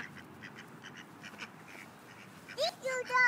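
Ducks being fed give a few loud, close quacks near the end, after softer background murmur and a person's voice speaking.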